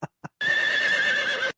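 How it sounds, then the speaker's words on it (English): A horse gives a loud, close whinny lasting about a second, preceded by two short thuds. "Yeah, that's a horse dying."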